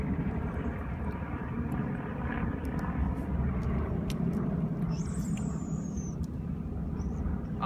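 Twin-engine WWII bombers passing at the EAA AirVenture Oshkosh 2015 airshow produce a continuous low, rumbling engine drone that holds steady throughout, with a faint announcer voice beneath.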